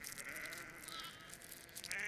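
Cartoon sheep bleat from a Little Red Tractor animated show, a drawn-out wavering bleat running steadily through the short moment at moderate loudness over a soft background, with no talking.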